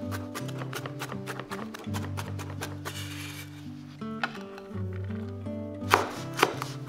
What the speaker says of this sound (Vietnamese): Và băm nhuyễn thêm 30g tỏi để cho vô nước mắm nè.